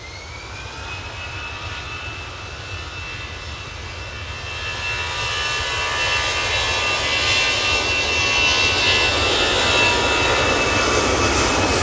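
EasyJet Airbus airliner spooling up for takeoff at Manchester Airport on its departure to Gibraltar, a steady jet engine roar with a high whine that swells louder partway through and holds, with no voices.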